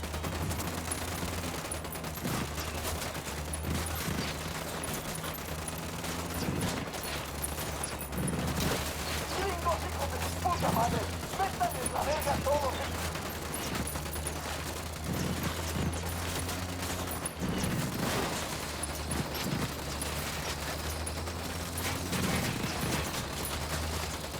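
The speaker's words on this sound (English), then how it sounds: "I'm opening fire on these shitheads" Gunfire in the tactical shooter Ghost Recon Wildlands: sustained automatic bursts and scattered shots crackle over a steady low engine drone, with a few louder impacts and a voice speaking at times.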